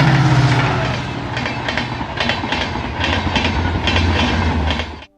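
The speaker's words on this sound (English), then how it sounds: "We reached Gubbi in time to spot 14806 Barmar Yeshwanthpur Express with the diesel power." A diesel-hauled express train, 14806 Barmer Yeshwanthpur Express, rolls past Gubbi railway station with a steady rumbling drone and repeated clickety-clack of wheels over rail joints, loud and close throughout before cutting off abruptly.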